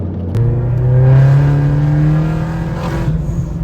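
A tuned Vauxhall Corsa VXR accelerates at half throttle on a quiet road, its engine note rising steadily and loud from inside the car, then easing slightly near the end without any talk.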